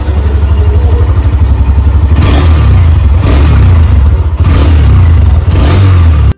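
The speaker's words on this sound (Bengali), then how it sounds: "তো চলুন এর এক্সস্ট সাউন্ড একবার শোনা" A 2024 Hero Xtreme 125R, a 125cc motorcycle, idles with a steady low exhaust thrum, then gets three quick throttle blips that rise and fall in rough even pulses before cutting off abruptly at the end; no talking.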